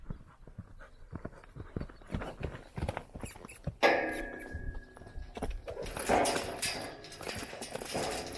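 Hooves clip-clop irregularly on the ground as a young horse is worked during colt-start training, with scattered thuds and rustling of varied loudness.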